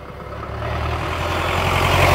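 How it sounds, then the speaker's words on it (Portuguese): A truck engine runs on a rural farm plot, a low steady rumble that grows gradually louder and closer over a couple of seconds, heard alone without talk. "Caminhão, vai buscar os bois."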